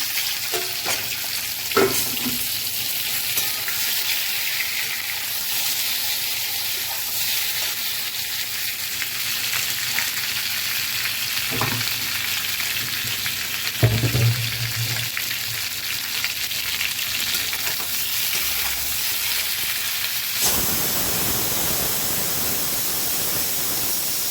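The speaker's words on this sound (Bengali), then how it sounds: "তেলটা হয়ে এসছে, পটল আলু ভাজাটা দিয়ে দেবো।" Fried pointed gourd and potato pieces go into hot oil in a Kolkata home kitchen, giving a steady, close, loud sizzle and frying hiss that runs throughout, with a few clunks of utensils and no talking.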